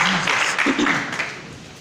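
Congregation clapping at a church service, a broad wash of applause that builds briefly and then tapers off, with faint voices mixed in underneath.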